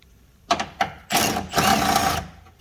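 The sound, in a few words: removing 10 millimeter bolts from fuse box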